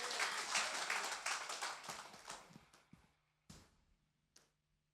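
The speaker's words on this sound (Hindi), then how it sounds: "क्यों ना एक जोरदार ताली प्रभु यीशु मसीह के लिए हो जाए।" A church congregation applauds together in a dense burst of clapping that thins out over a few seconds, leaving a handful of final isolated claps before quiet.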